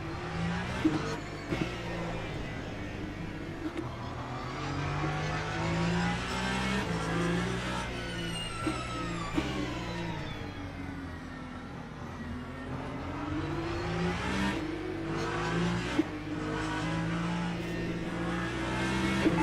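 An Alpine hypercar engine in a racing video game drones steadily, revving up and down with a whistling turbo, while a voice talks faintly underneath.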